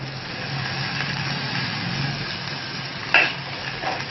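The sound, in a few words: curry leaves frying with sautéed onions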